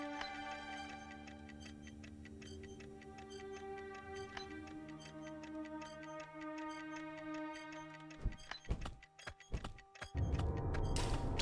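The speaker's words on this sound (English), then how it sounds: "Sounds like a timer." A ticking countdown timer in the video game Grimm's Folly ticks steadily over soft tonal game music, with sharp game effects and a louder burst near the end.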